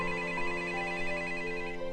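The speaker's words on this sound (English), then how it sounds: "late that evening, the phone rang" A telephone rings late in the evening, a sustained steady electronic tone holding at an even level, heard alone without voices.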